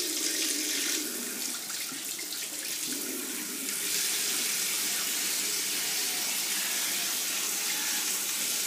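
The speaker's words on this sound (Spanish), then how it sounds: "Ahora dejo que salga un poquito de agua caliente." Hot water runs steadily from a tap into a sink during a facial cleansing routine, a continuous close splashing rush that holds throughout without pause or talk.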